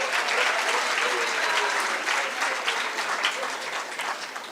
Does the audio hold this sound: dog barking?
no